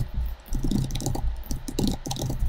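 Someone types on a computer keyboard. Quiet, irregular key clicks come in quick bursts with short pauses, close up and with no talking.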